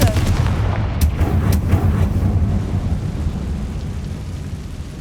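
A Confringo fire-blast spell from Hogwarts Legacy detonates in a loud, booming explosion, its heavy low rumble rolling on and slowly fading over several seconds.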